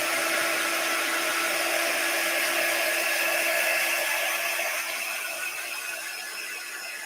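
A dryer blows on a heat transfer to dry it, producing a loud, steady, close whooshing roar that runs unbroken throughout and eases slightly toward the end, with no talking.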